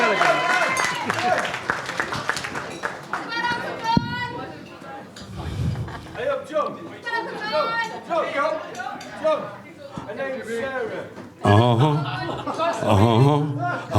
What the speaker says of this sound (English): a big round of applause, please, for John